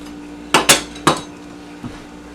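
A knife cuts the core out of a cabbage head in a kitchen, making three sharp, close knocks in quick succession and then one fainter tap, with no talk.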